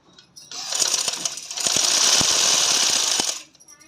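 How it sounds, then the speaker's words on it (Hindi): A sewing machine stitches an extra strip of fabric onto a trouser, running in two loud bursts of fast, steady mechanical chatter with brief pauses in between, close by with no talk. "आपको स्टिच करके दिखा दूंगी"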